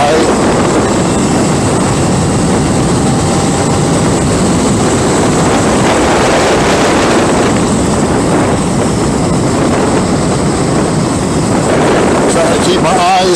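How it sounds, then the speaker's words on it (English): Loud, steady roar of wind buffeting a rider on a 2023 Ducati Diavel V4 motorcycle at high freeway speed, a dense rushing noise that stays constant throughout with the engine buried beneath it. "The wind noise gets pretty high."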